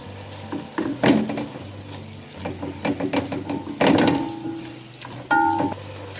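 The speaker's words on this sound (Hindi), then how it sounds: "यहाँ इसे चम्मच चलाते हुए कंटिन्यूसली हमने 12 मिनट भूनना है।" Grated bottle gourd roasting in ghee while a spoon stirs it, giving intermittent metallic scraping and clattering against the pan in uneven bursts, with no voices.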